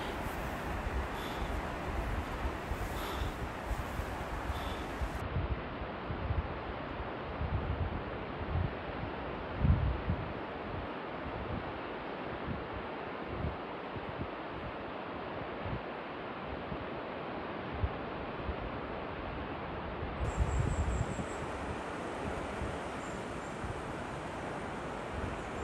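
A steady broadband rush of a waterfall in Sounkyo Gorge, Hokkaido, roars continuously from a viewing platform, with gusts of wind buffeting the microphone now and then.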